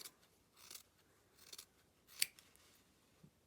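Scissors snip through fabric while trimming a sewn scrunchie seam point, giving a few faint, soft cuts with one sharper snip near the end.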